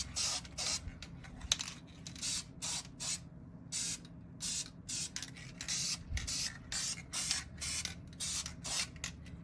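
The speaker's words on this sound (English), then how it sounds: "Just putting a spritzing over things here, and I'll get the rest of it done." A can of spray paint hisses in a rapid series of short, close bursts while coating an old inline-six engine, each spray separated by brief pauses.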